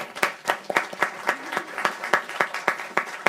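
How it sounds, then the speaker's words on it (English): An audience claps for a speaker at a voting rights event, with a small group's sharp, distinct claps landing in an uneven rhythm, close and clearly separated. "give a round of applause to Clarissa."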